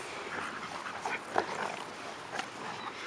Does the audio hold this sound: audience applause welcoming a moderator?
no